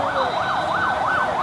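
A Nepal Police fire engine siren wails loud and close, its tone sweeping up and down in a steady repeating cycle.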